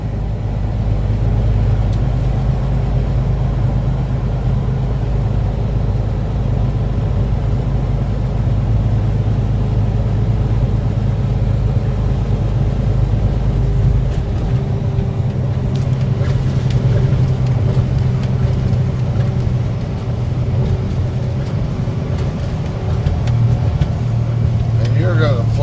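Steady engine drone and road rumble from a car driving through downtown Dallas, a constant interior hum heard throughout with a shift in road noise midway, loud and unbroken.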